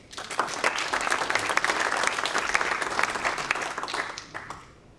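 A conference crowd at a cleantech round-table applauds steadily for several seconds, dense clapping that swells and then fades away at the end.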